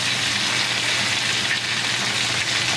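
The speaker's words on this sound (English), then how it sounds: "We're going to cook it right on butter and oil sauce." A steak sizzles steadily in a pan of butter and oil, a loud, continuous crackling fry with no pauses.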